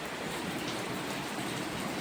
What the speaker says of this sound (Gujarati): બહુ જ વરસાદ આવે.